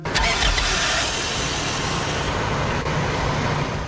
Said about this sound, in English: Starting the engine takes patience.